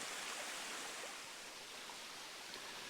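Rushing water from a waterfall and stream in Mount Wilson rainforest, a steady broadband roar with no breaks, moderately quiet and with no voices.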